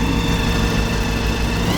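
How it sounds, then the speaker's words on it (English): A 1933 Ford pickup custom hot rod's big supercharged engine running steadily, a loud, dense close-up roar with a sustained high whine riding over the rumble and no speech. "listen to that beautiful supercharger whine"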